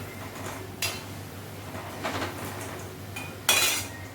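Jhalmuri puffed rice seasoned with cumin is tossed in a metal bowl, quiet rustling broken by a few sharp clinks and scrapes of the utensil against the bowl.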